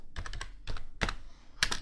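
Code is typed on a computer keyboard up close, short clusters of crisp key clicks separated by brief pauses, with no talk over it.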